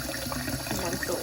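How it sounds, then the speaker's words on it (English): Hot water runs from a kitchen tap in a home kitchen, a steady close rushing hiss filling the whole moment without pause. "Meanwhile, I have the hot water running"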